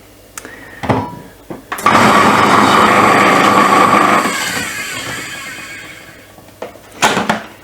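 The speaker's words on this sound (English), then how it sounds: "I just want to grate 2 carrots I've got and 1 kind of medium to small courgette. So I'm gonna blitz those through." A food processor grates two carrots and a medium-to-small courgette with a loud motor whir and a whining tone that slowly winds down over about four seconds, framed by clunks before and after.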